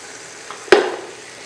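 Boiled mutton is dropped into frying masala with one sharp splash, followed by a brief burst of sizzling that fades within a second.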